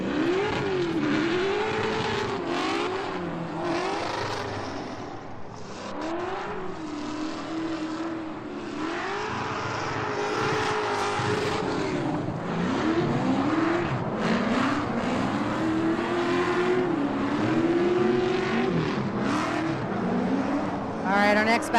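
Drift karts battle on a kart track at a live drift competition, engines revving and whining up and down in pitch as they slide past, with an announcer talking over the racing throughout.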